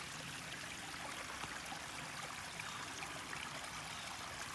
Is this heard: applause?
no